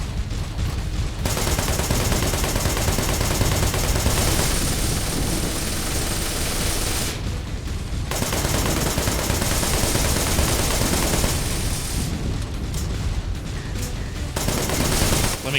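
Gunfire against a spider tank boss in Wanted: Dead, with dense, loud sustained automatic shooting and explosive bursts running almost continuously, broken by short gaps, and no talk.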